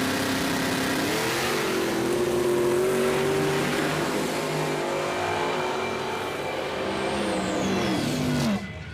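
A Pontiac Firebird drag car launches down a drag strip after its launch RPM and tire pressure were lowered: a loud, sustained engine roar rises through the gears and fades away, then cuts off abruptly, with no talking.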